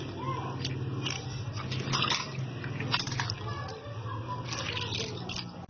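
Bitter gourds being washed and dipped in water in a home kitchen, with wet squishing, rubbing and dripping sounds at close range, irregular and continuous.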